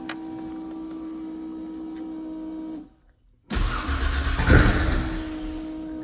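A car engine cranks and fires up after a motor swap, with a steady hum, a brief silence, then a loud rumbling start and a rev rising to a peak.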